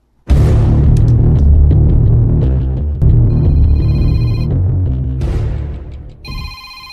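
A telephone rings loudly and continuously in bursts close by, with a short pause midway before the ringing resumes and then fades out.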